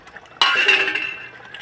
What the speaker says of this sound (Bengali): তো এবার আমি মাছগুলো দিয়ে দেবো এর মধ্যে।